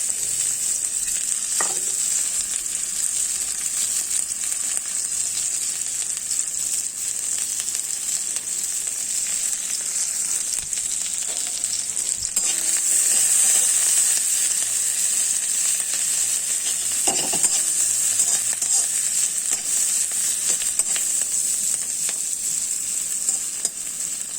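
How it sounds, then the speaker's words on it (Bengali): Onions sizzle steadily in hot oil, a constant loud frying hiss with occasional scrapes of stirring. "পেঁয়াজগুলো এবার ভাজা ভাজা হয়ে গিয়েছে"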